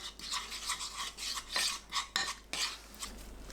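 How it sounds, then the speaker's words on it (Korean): Minced garlic, soy sauce and doenjang are stirred together in a pan, giving a quiet series of scraping, clinking strokes with brief pauses between them. "팬에 다진 마늘 반큰술, 진간장 2큰술, 된장 1큰술 넣고 섞어줍니다."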